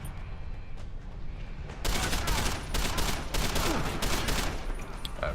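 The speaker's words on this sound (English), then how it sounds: "Oh, there's another guy shooting." Dense, continuous gunfire from the video game Deus Ex: Human Revolution, a rapid burst of overlapping shots that starts abruptly and keeps up loudly over a low rumbling background to the end.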